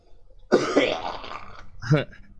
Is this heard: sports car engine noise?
no